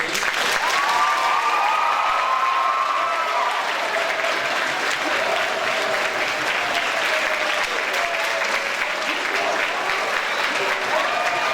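A high school audience gives a sustained round of applause, dense clapping and some crowd noise filling the room steadily for the whole stretch, with faint voices mixed in underneath.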